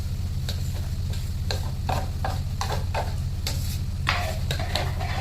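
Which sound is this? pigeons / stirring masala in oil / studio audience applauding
stirring masala in oil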